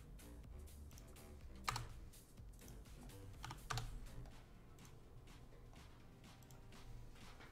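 Typing on a computer keyboard indoors, with quiet, quick clusters of key clicks and a couple of louder strikes over a low background hum, and no talking.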